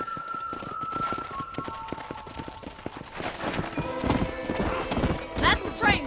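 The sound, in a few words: horses trotting in a video game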